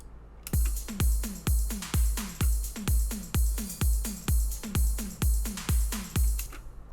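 Kick drum hits land steadily about twice per second in an electronic dance track, each punchy low thump over a sustained, unducked bed of synths and hats, played without sidechain compression.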